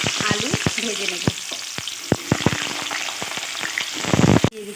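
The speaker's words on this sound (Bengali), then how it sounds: "গ্যাসের ফ্লেম কমিয়ে আমি আলুটাকে ভেজে নেব" Potato pieces frying in oil over a lowered flame with salt and turmeric: a close, crackling sizzle broken by sharp ladle taps and clacks against the pan, swelling into a louder burst of frying near the end.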